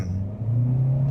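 Turbocharged engine of a 2025 Chevrolet Equinox RS SUV building revs, a low steady hum that swells and rises in pitch over about a second, heard from inside the cabin without talking.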